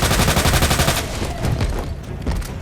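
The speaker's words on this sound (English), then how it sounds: "even when shooting him on his limiter with my infinite submachine gun, my bullets will literally just bounce off his body" An infinite submachine gun fires at Mr. X in Resident Evil 2 Remake, a rapid, steady stream of loud close shots that runs for about a second before trailing off into lower rumbling game noise.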